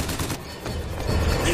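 Gunfire aimed at the player in BioShock Infinite, a loud burst of rapid shots and booming impacts in a dense, chaotic battle mix.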